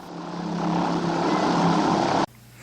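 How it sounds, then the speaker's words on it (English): A propeller plane arrives in the 1980 jungle film Cannibal Holocaust, its engine a loud, steady drone held for about two seconds before it cuts off abruptly to a quiet background. "Soon enough, Dr. Monroe arrives by plane."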